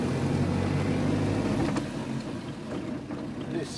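A 1933 Austin 10 with a 10 horsepower engine drives along, its low, steady engine drone heard close from inside, easing slightly partway through.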